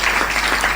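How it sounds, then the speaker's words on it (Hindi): Audience applause at a Hindi poetry recital or public gathering, a steady dense wash of clapping that fills the short moment without any voices over it. "तालियां कमजोर हैं आपकी।"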